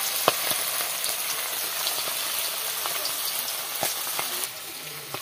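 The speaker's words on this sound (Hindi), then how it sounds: "और अब इसे तेल में डालेंगे" Chicken liver pakoras frying in hot oil for a village-style recipe, a steady, dense sizzle with small crackles and pops throughout, close and fairly loud.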